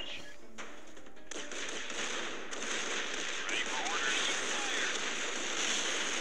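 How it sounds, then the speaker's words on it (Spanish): Loud, dense bursts of cannon fire crashing into factory concrete in the video game Art of War, a continuous roaring barrage with sharp onsets early on. "Suenan los cañonazos contra el concreto de las fábricas."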